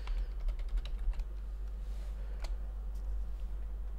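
Computer keyboard typing in a quiet room: a quick burst of close, light key clicks at the start, then sparser taps and a few isolated presses, alone with no talking.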